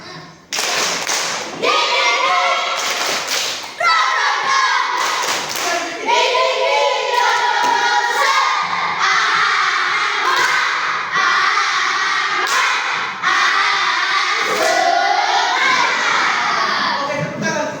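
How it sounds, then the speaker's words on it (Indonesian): An Indonesian classroom applauds a student during a micro-teaching simulation, with bursts of clapping and thumps, and children's voices and chatter running throughout, loud and close. "tepuk tangan untuk dia dulu"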